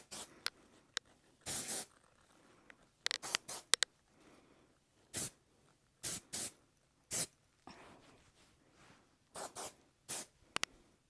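Short hissing bursts of volume hairspray sprayed under layers of hair with the head turned upside down, about a dozen close spritzes in irregular clusters, with faint handling noises between them.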